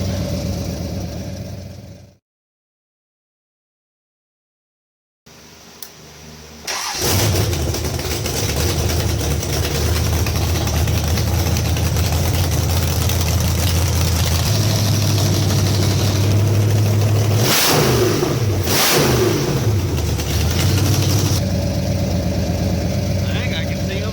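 A 1968 Hemi Charger V8 cranks and fires after a short silence, then settles into a loud, steady rumbling idle with a couple of sharper revs near the end, heard up close.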